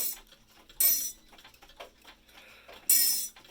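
A Boston ship's bell clock, its hammer set too close to the gong, ticks softly and steadily at close range, broken by two louder, rougher metallic strikes.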